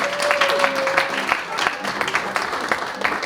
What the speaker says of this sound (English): real applause again for Zeddy and his remarkable portrayal.